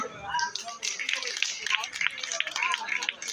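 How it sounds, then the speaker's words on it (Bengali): Crowd of people clapping their hands at a Buddha Purnima celebration, a dense, steady patter of applause lasting several seconds, with voices mixed in. "জোরে হাততালি একবার।"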